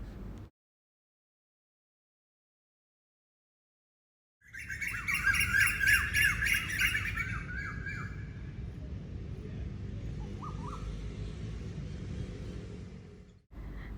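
Birds chirp and squawk outdoors, loud and close for a few seconds, then fade under a steady rumble of background noise.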